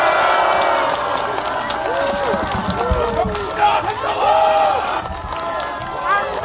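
Large outdoor political campaign rally crowd roaring and applauding continuously, a dense wall of cheers and clapping with chanting voices rising and falling throughout.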